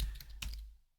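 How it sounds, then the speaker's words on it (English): A short burst of computer keyboard typing, a few quick close key clicks in the first half that stop abruptly and fade into near silence. "I can start typing"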